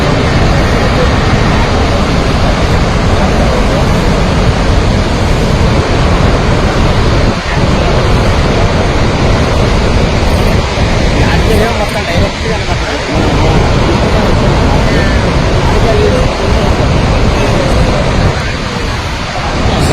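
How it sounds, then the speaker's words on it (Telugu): Water rushing out through the eleven open gates of Srisailam dam, a loud, constant roar of falling water that fills the whole stretch without letting up, with faint voices mixed in. "శ్రీశైలం ప్రాజెక్ట్ మొత్తం 11 ఫస్ట్ గేట్ల ద్వారా నీటిని కిందకు వదులుతున్నారు."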